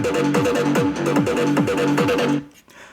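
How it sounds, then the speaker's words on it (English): Big room trance drop from an FL Studio production, punchy kick hits in a steady four-on-the-floor pulse with a pumping bass line and bright layered synths, loud and alone before cutting off near the end. "Together with the kick and the bass, it sounds like this"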